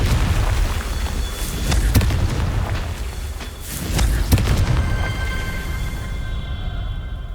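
A Confringo blast spell cast in Hogwarts Legacy, heard as a few sharp booming bursts over a dense rumbling game backdrop, with a tonal chime rising near the end.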